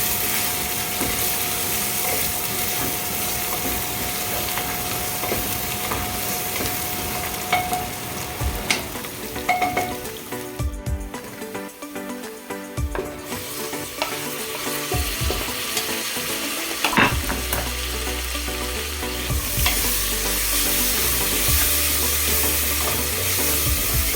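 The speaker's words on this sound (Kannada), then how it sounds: "ಒಂದು ಚೂರು ಹಾಕೋರಿ. ಅದು ಜಲ್ದಿ ಫ್ರೈ ಆಗುತ್ತೆ" Biryani masala frying in a pan with salt and a little brown sugar, a steady broadband sizzle with occasional stirring scrapes and clinks, close and continuous throughout with no talking.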